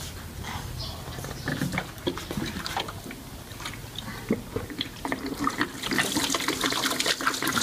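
Apple cider vinegar and loosened rust pour out of a motorbike fuel tank, a steady splashing, gurgling stream of liquid heard close up that grows louder toward the end, with no talking.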